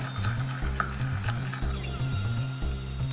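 Glow-in-the-dark slime being mixed in a beaker, a steady squelching stir with regular pulsing low thumps, close and moderately loud with no talking.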